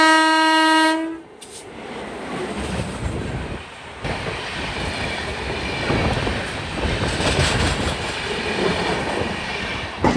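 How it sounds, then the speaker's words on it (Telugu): The Sambalpur Nanded Express leaving Visakhapatnam station gives a loud, sustained horn blast at the start, then rumbles past close by with rhythmic wheel clatter and rushing noise to the end. "విశాఖపట్నం రైల్వే స్టేషన్ నుంచి సంబల్పూర్ నాందేడ్ ఎక్స్ప్రెస్ అన్నమాట బయటికి అయితే వచ్చేసింది"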